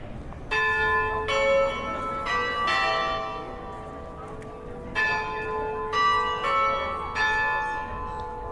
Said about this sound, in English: That's the bell ringing.